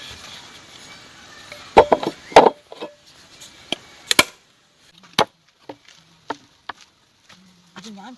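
Local timber being cut at a marked line for a chair, heard as a few loud sharp chopping blows followed by lighter scattered knocks and pauses, close by, with faint background hum.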